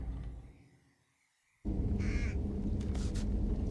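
Crow cawing in the Thief stealth video game, loud harsh calls that start abruptly after a near-silent lull and repeat over a dense ambient background, with no talk.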